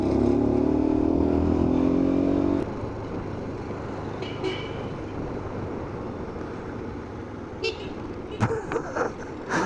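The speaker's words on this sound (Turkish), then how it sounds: "araba kornası benim kornaya bak" A short motorcycle horn toot near the start, then traffic noise with passing engines and a few brief clatters; faint voices in the background.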